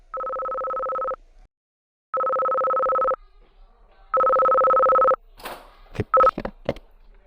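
Three long, steady two-tone telephone dialing beeps sound close and loud with short gaps between them, followed by a quick burst of shorter keypad tones mixed with faint clicks and noise.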